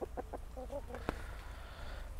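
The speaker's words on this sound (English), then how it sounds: "Very pretty rooster." A few soft, quick clucks from a nearby rooster, followed by a brief click and quiet room noise.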